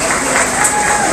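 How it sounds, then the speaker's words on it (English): A crowd at a commercial pig stock show applauds in a brief, dense wash of clapping with a hint of cheering, loud and steady throughout. "Let's give them a round of applause and thank them for working with your kids."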